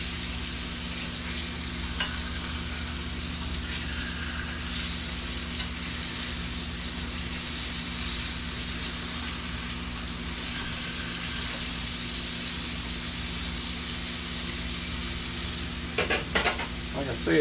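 Flipped pork chops fry in a pan with a constant, dense sizzle close by, a few faint clinks of a utensil, and a short burst of scraping and clatter near the end.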